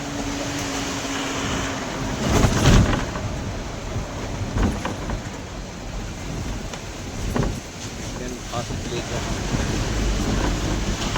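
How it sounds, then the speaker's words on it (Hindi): Rushing Saraswati river water near Mana village in the Himalaya, a loud continuous turbulent roar mixed with wind buffeting the microphone, with a few brief louder gusts. "सरस्वती नदी"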